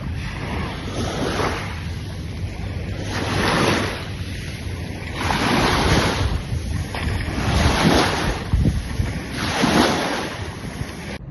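Sea waves roll in at a hotel beach in Sharm el-Sheikh, each surge swelling and washing up about every two seconds, loud and close, with wind buffeting the microphone.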